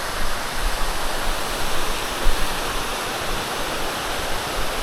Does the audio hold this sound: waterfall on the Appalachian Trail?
yes